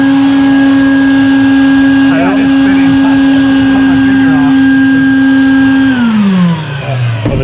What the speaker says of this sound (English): the turbo spins via vacuum power. Pretty cool. Yeah, that's good news. Shop vac anti-lag.